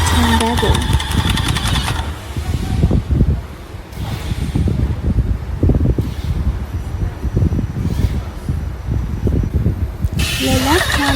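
An EA895S machine engine runs steadily during a water test, a loud continuous rumble with hiss and some clattering bursts throughout, and louder mechanical noise near the start and end.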